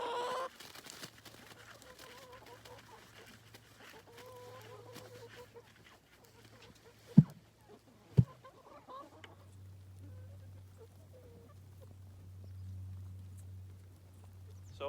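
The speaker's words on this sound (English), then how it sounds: "Come on, chickens, come get your breakfast." Chickens cluck at morning feeding time on a rainy farm. Soft, scattered clucks ride over a steady low electrical hum, broken by two sharp knocks midway.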